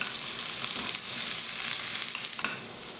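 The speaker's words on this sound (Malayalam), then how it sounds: "ഇനി ഇതിലേക്ക് ഇഞ്ചി പച്ചമുളക് ഉള്ളി കറിവേപ്പില ഇതെല്ലാം ചേർത്ത് നന്നായിട്ട് മൂപ്പിച്ചെടുക്കണം" Ginger, green chili, onion and curry leaves crackle in hot oil with mustard seeds, a steady dense sizzle running throughout with light stirring scrapes.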